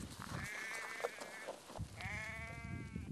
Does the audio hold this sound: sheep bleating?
yes